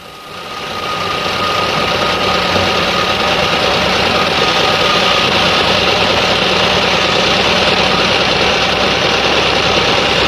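A car engine with a Brazilian 2E/3E carburetor idles steadily during idle speed and CO adjustment, a loud continuous mechanical hum with a slight knocking texture that rises at the start and then holds even.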